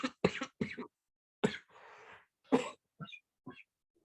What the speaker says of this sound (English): I hope my coughs aren't coming through over my mic too much.